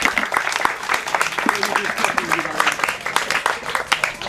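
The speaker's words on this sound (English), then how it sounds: "Yes, you deserve a round of applause," Audience applause at a boys' end-of-year Shabbat walk event, a dense steady patter of clapping from a room full of people that fills the whole stretch at a fairly even level, with faint voices mixed beneath.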